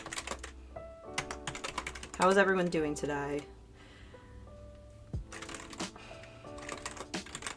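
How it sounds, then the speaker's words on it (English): Keyboard keys clicking and clacking in quick, irregular bursts during a livestream drawing session, close and fairly quiet, with a person talking over parts of it and music playing underneath. "you're gonna hear me clicking clacking in a sec"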